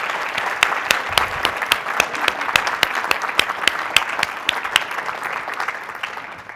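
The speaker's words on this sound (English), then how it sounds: "could you please give all of these people a huge, huge round of applause for making this happen?" A large JSConf conference audience gives sustained, dense applause, loud and even throughout with sharp individual claps standing out in the crowd.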